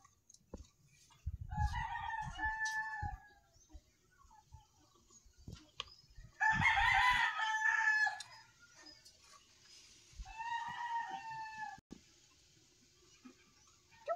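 Three crowing calls come from a nearby rooster, each a drawn-out cock-a-doodle-doo with a loud, strained middle. Softer clucks and scratching sounds fill the gaps between the calls, and no one speaks.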